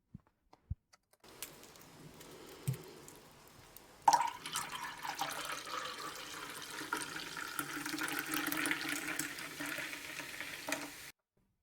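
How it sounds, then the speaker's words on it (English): Coca-Cola pours steadily into a glass of bourbon, a fizzing, splashing stream that rises after a faint start and runs for several seconds before stopping abruptly, close and fairly quiet with no talking. "it's basically me pouring Coca-Cola into a glass of bourbon"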